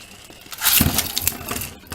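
Beyblade Shogun Steel BeyWarriors spinning tops, including an Archer Griffen, clashing in a stadium battle: a burst of metallic clinks and scrapes that peaks early, then fades into lighter rattling collisions.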